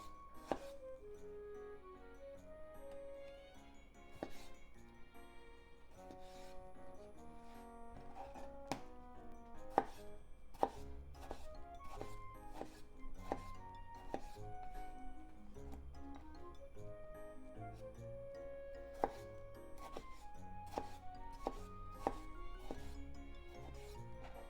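Knife slicing tomato and onion thinly on a cutting board for a salad with shiso, a long run of quiet, crisp taps, sparse at first and then quicker and fairly steady.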